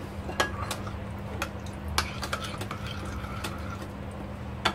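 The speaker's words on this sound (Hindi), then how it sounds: "अब इसको अच्छे से मिक्स करेंगे" Spoon scrapes and clinks against a bowl while chicken for shawarma is mixed with spices, a scattered run of sharp taps over a low steady background hum.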